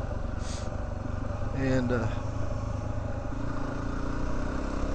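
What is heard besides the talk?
motorcycle riding on a remote road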